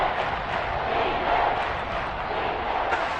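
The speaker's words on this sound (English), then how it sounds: "the crowd getting into it as we come up on a big 3rd down" Dense, roaring football stadium crowd in a video game, a steady wash of cheering and shouting that holds at an even loudness throughout, with no distinct voices standing out.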